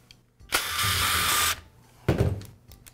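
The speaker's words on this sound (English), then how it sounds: "I'll begin by removing the motor cover from the router." Screws are driven out to remove the motor cover of a Ridgid laminate trimmer router: two short bursts of a close whirring, ratcheting power driver separated by a pause.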